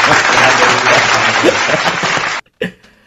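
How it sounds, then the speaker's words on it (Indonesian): Canned applause sound effect played in a podcast studio, a loud, dense crowd clapping with faint chuckles that cuts off abruptly, followed by a brief silence and a short tail. "Ada efek ini nggak? Tepuk tangan palsunya mana?"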